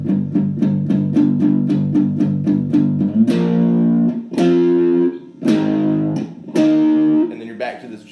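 Distorted electric guitar plays the Killer Klowns from Outer Space theme riff, starting with a fast run of muted, chugging picked notes, then several loud ringing chords that crash in and decay, close and unaccompanied.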